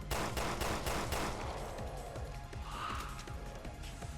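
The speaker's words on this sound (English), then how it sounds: "The reason I use my machine gun is so I can get some ammo with that too" Rapid machine gun fire in Resident Evil Revelations 2 Raid Mode, a close, loud stream of sharp shots for the first second and a half, then continuing bursts mixed with crashing impacts.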